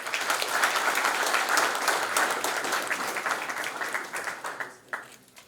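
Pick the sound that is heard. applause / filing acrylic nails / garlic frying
applause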